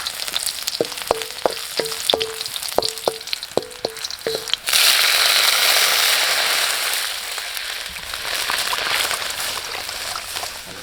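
Garlic hitting hot oil while cooking a Thai raw-beef larb: a run of sharp, evenly spaced knocks, then a sudden loud, steady sizzle that fills the rest and eases slightly toward the end.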